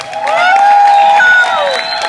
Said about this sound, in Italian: entrano solo con un grandissimo applauso